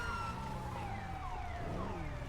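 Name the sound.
police car siren in a video game (GTA RP, NoPixel)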